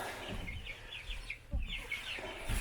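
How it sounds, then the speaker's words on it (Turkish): Soft, scattered clucking from a few chickens over low background rumble, with a couple of thumps partway through. "Tavuklarımız geldi."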